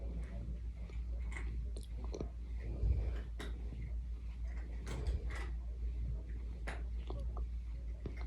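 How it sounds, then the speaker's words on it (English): A cat chews crunchy treats close by, giving repeated small crunches and clicks over a low indoor hum, with faint background sounds throughout. "I just love to hear cats chew treats."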